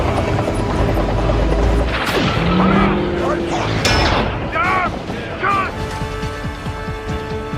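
Tiger tank cannon fire in a war film: heavy booming blasts and crashing impacts over a loud rumbling battle bed, with sharp whistling and screeching effects between shots and a voice talking over the din.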